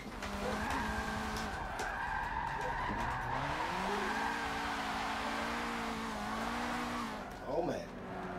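A low-horsepower drift build in a racing video game slides with sustained tire squeal over a steady engine drone, the pitch wavering as the car swings through corners.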